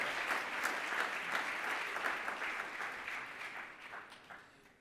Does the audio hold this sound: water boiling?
no